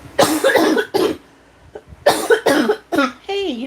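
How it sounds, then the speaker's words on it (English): A person coughs several times in short, loud, close bursts, each harsh and separated by brief pauses, with a voiced throaty sound trailing at the end. "I think that's the first time I've coughed all day"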